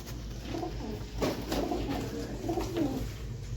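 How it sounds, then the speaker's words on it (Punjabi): A pigeon coos close by in soft, rolling phrases, repeated a few times over a low background hum. "ਇਹ ਵੀ ਕਾਲੀਆਂ ਅੱਖਾਂ ਦੀ ਕਬੂਤਰੀ ਆ"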